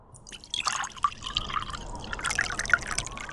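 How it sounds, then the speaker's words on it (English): Diner coffee pours from a pot into a cup, a close liquid splash and trickle with bright drip-like plinks, steady and fairly quiet. "You pour yourself a cup once the pot finishes."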